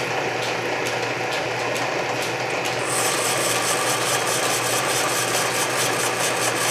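A Canedy Otto drill press runs on its low belt range at about 300 RPM, giving a steady close mechanical whir with faint rubbing and rasping and a light, regular ticking rhythm, with no voices.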